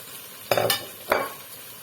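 A spoon stirs basil leaves through fried eggplant and tofu in a pan over gentle sizzling, two short scraping, tossing strokes standing out clearly and close against a quiet background.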